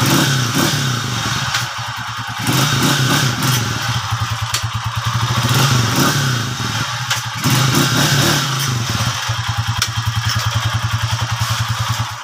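A motorcycle engine, just repaired at the kick starter, runs loud and close with a fast chugging idle, swelling into revs a few times and dropping back between them, with some clattering mechanical knocks.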